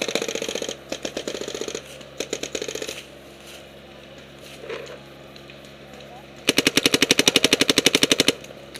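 Paintball guns fire in rapid bursts of sharp pops during an outdoor paintball game. A volley comes early, there is a short lull, and then a louder, denser flurry of shots follows.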